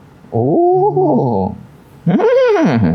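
A voice imitating a horse, two loud drawn-out whinnying cries with rising and falling pitch, close and alone.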